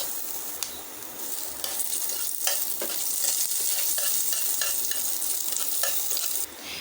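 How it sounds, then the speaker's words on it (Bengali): Onions frying in oil in a pan crackle and sizzle steadily up close, with repeated stirring scrapes running throughout and no talking. "প্যানের মধ্যে দিয়ে দিচ্ছি তেল, দিয়ে দিচ্ছি পেঁয়াজ"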